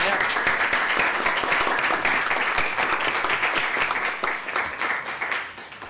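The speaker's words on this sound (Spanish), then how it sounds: "quisiera que primero que nada les demos una cálida bienvenida con aplausos" Audience at a book presentation gives a warm round of applause welcoming the speakers, dense sustained clapping from a crowd that thins slightly toward the end.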